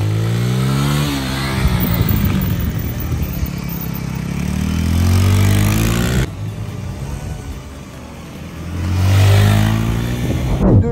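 A motorcycle engine on light throttle while riding, loud and close, its drone rising and falling in long swells as the revs build and ease off, with no voices over it.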